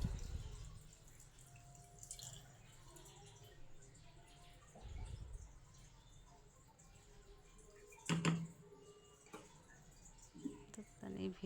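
A milk mixture is poured through a strainer, giving soft, faint trickles and drips with a few louder splashes, set under quiet talking.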